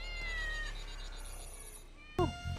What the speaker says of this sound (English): My cat Squeaker won't come down.